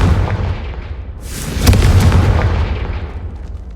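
Confringo fire spell cast in Hogwarts Legacy, a loud sustained explosive blast with a rumbling low end that swells near the middle and slowly fades, no talking over it.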